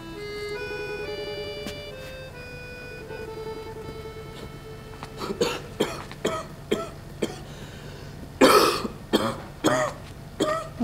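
A person coughing repeatedly in a series of harsh, close bursts, a few seconds apart, after a stretch of soft melodic tones with no talk.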